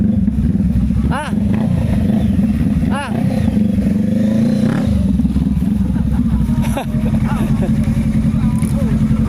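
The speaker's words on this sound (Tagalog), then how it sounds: "Ang lakas pala nung motor na yun." A loud motorcycle engine roars and drones steadily close by on a street, with a few sharper passing surges over the constant rumble.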